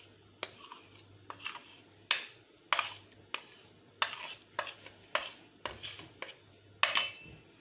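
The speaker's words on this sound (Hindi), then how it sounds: "फिर इसी तरह बड़े आराम से इस तरह मिक्स करना है।" A spoon or spatula scrapes and knocks around a bowl while cake batter is mixed for a Mickey Mouse theme birthday cake. The strokes come in a steady rhythm, about one every half second to second, close and fairly soft.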